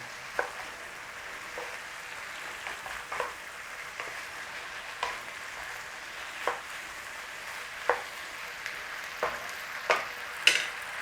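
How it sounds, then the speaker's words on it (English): Beef and bell pepper stir-frying in a pan with sauce, a quiet sizzle broken by repeated scraping and tossing strokes at a steady rhythm, with no talk. "in with our veg. Stir through, toss over, job done"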